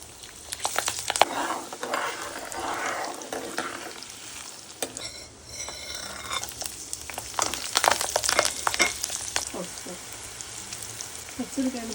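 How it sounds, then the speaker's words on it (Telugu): Green chillies frying in a pan for mango pulihora mix, an uneven crackling sizzle with spoon scrapes and stirring clatter, briefly quieting midway before crackling louder again close up. "పచ్చిమిరకాయలు బాగా వేగనివ్వాలండి,"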